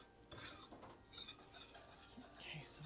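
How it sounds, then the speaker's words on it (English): A whisk works a flour mixture around a pan for chicken pot pie, producing quiet, irregular scraping swishes and light metallic clinks, close but faint, with soft murmuring in the background. "Okay, so I'll whisk this around a little bit"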